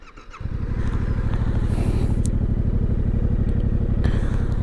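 A Yamaha MT-07 motorcycle with its stock exhaust fires up after a brief starter whir, then settles into a steady, loud, close-up idle with an even pulsing throb.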